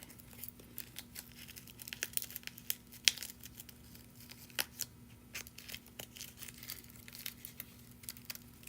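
A roll of star-patterned silver ribbon being handled up close, with faint, irregular crinkles, rustles and small tearing snaps scattered over a low hum.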